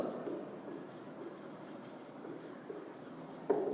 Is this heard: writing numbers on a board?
yes